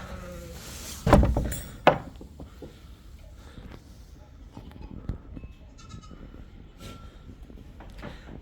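Goats bleat loudly nearby, a couple of sharp calls early on, followed by quieter bleats and farmyard shuffling in the background.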